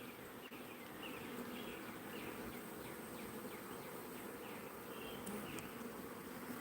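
A swarm of honey bees buzzing continuously at a steady, dense drone around an opened hive with swarm cells, the sound filling the whole stretch with no voices.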